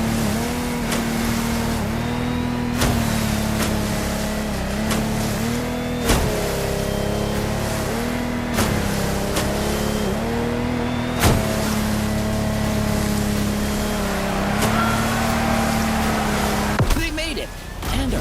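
Lamborghini Technomar boats race in The Crew Motorfest with a steady, loud engine drone held at high revs for the whole stretch. Pitch shifts and brief surges mark throttle changes, and a short fade comes near the end.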